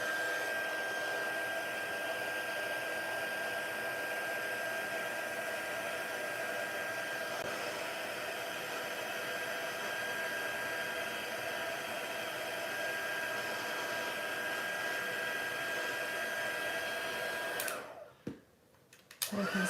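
A heat tool blows steadily on a die-cut, a loud continuous roaring whoosh with a faint high whine that runs unbroken for about seventeen seconds before cutting off abruptly, leaving brief handling noise.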